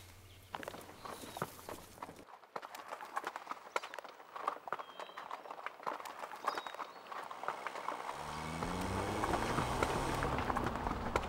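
Horses walk along a road with rhythmic hooves clip-clopping at close range, followed near the end by a rising rumble of an approaching truck.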